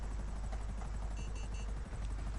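A helicopter in the video game GTA 5 gives a steady, loud, pulsing rotor whir that runs unbroken through the whole stretch, with no talking over it.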